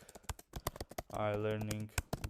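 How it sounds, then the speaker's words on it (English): Rapid clicking keystrokes on a computer keyboard, close and busy, with a voice speaking briefly over the middle of the typing. "So we're typing admin"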